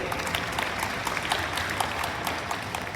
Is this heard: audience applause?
yes